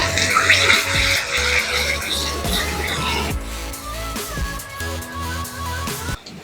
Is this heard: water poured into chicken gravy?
yes